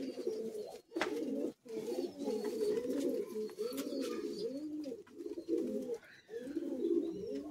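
Pigeons coo close by in soft, repeated rolling phrases, one call after another with only brief gaps between them, at a pigeon sale.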